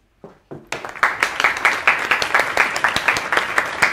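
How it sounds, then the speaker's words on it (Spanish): An audience bursts into applause at a closing event of a Catholic pilgrimage in Magdala. A few scattered claps come first, then the crowd joins in steady, dense clapping that stays loud and even throughout. "aplausos."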